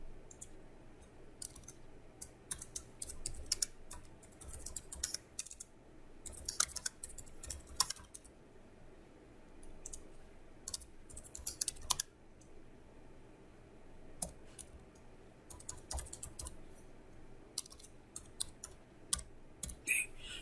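Typing code on a computer keyboard, with bursts of quick close key clicks separated by short pauses, quiet and steady with a faint background hum.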